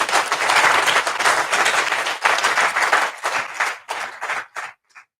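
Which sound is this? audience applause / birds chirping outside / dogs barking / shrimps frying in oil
audience applause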